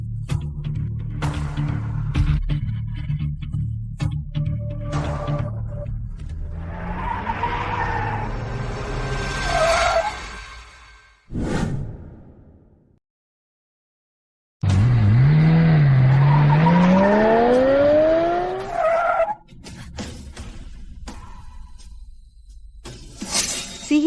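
A black car arrives with its tires skidding and squealing loudly, with a sharp shattering crash in between, then a long rising screech close by.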